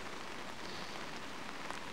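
Rain falls on a slow-flowing river in a steady, even patter of fine drops across the surface, soft and continuous throughout.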